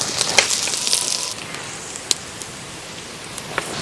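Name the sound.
onions, green chilies and curry leaves sautéing in pan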